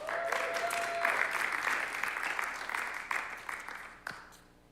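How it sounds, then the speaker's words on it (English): Sustained applause from an audience, steady clapping that gradually thins out and fades toward the end. "Let's have a round of applause for Kristen."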